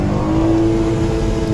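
A Porsche Cayenne revs steadily while sliding sideways through a bend, a loud, close, sustained engine drone with no voices.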